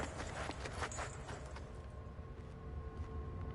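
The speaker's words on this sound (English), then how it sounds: "Ah, the horse." Rhythmic hoof clip-clops from a horse at a steady pace, fairly faint, over a low background hum, in the video game Amnesia: The Dark Descent.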